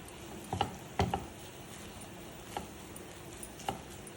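Semiya upma with grated coconut is stirred in a pan, giving a few soft, close scrapes and taps, two near the start and scattered ones later, over a faint low sizzle, with no voices.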